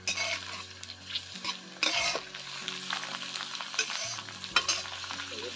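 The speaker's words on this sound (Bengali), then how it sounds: "এখন একটু জল দিয়ে এই পেঁয়াজ মরিচ রসুন কষিয়ে নেব।" Chopped onion, green chili and garlic fry in hot oil for a Bengali egg curry, with a steady sizzle and repeated scraping stirs of a spoon against the pan, close up and without talk.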